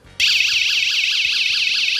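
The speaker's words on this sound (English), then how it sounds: "This is a little alarm system. This one's called a first alert." A small First Alert magnetic door alarm sounding, a loud, piercing warbling tone that starts suddenly and keeps cycling steadily at close range.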